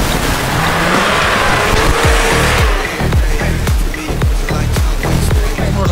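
A VAZ 2107 4x4 drives offroad with its differential locks not working, the engine droning loud and steady while rhythmic low thumps pulse through, probably from the rough ground, with faint talk mixed in.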